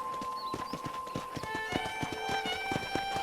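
Horse hooves in Red Dead Redemption clip-clop in a brisk, even rhythm, with sustained musical tones ringing above and a brief whinny-like sound.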